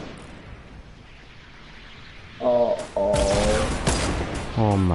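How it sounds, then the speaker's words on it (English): Rocket launcher explosions in Fortnite, heavy booming blasts arriving in quick succession, with excited voices talking over and between them. "he's shooting rocket launchers"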